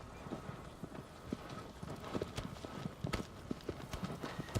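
Horse hooves clip-clop in the Shadow of the Colossus remake, a steady quick rhythm of distinct hoof strikes at moderate volume, fairly close, over faint ambience.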